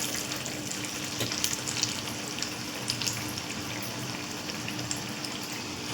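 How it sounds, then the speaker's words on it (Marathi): Dal vadas frying in a pan of oil on a gas stove, a steady close crackling sizzle with small pops running through the whole stretch, no one speaking. "गॅसवर मी पॅन ठेवला आहे,"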